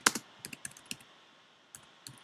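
Quick bursts of typing on a computer keyboard during an online teaching session, a handful of light clicks spread irregularly across a couple of seconds, close and fairly quiet with no talking.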